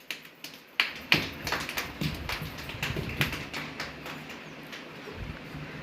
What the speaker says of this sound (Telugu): క్లాప్స్ కొట్టండి పిల్లలు, క్లాప్స్ కొట్టండి.